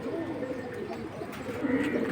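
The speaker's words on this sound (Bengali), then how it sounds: "এগুলো হচ্ছে ফ্লাইয়ের কবুতর" Flying pigeons kept in a loft coo softly and steadily, a low murmuring layer with a slightly louder swell near the end, no voices over it.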